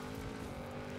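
A car being driven in Forza Horizon 5 during an Eliminator run, its engine a steady low drone that holds at an even pace for about a second, at moderate volume with no voices.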